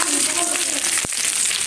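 Fish fry in hot oil with a steady, close sizzle and crackle that carries on throughout, broken once by a brief knock.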